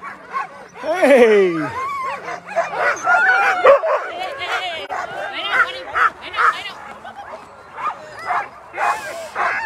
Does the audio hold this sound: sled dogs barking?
yes